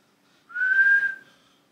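A single person whistles one clear sustained note lasting under a second, rising slightly then fading, set against near silence.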